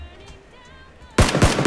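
Gunfire in PUBG bursts in suddenly after a quiet stretch, a loud rapid string of close shots filling the final half second.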